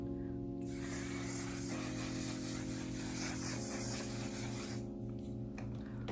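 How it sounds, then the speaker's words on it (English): A continuous hiss of makeup setting spray, steady and close, running over a sustained low mechanical hum before tapering off near the end. "Spray this one on top of it. And this one's kind of like a hairspray actually"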